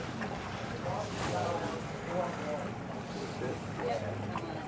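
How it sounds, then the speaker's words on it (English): A single-engine center console boat's engine hums steadily at close range on the Intracoastal Waterway, with wind and water noise around it and people talking intermittently over the top. "Got to listen to the engine."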